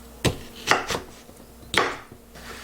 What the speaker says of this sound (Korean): 한입 크기로 잘라주겠습니다